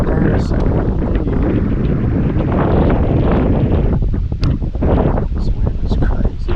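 Strong gusting wind roars over a lake during a fishing trip, buffeting the microphone with loud continuous rumble and rustle as someone talks over it.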